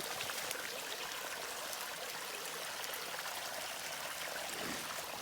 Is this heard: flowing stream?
yes